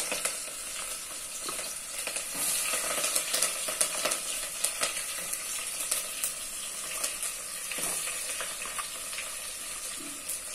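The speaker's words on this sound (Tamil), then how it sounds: "வெங்காயம் போட்டு வெங்காயம் மட்டும் நல்லா சிவக்க வதக்கிட்டு" Onion sautés in a pan after mustard seeds have popped, cooking until reddish with a soft, continuous sizzle and intermittent scraping stirs.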